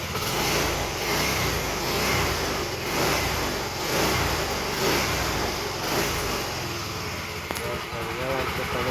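A Honda Xeon motorcycle engine running close by with rhythmic surges of revving, loud and steady, while someone talks over it.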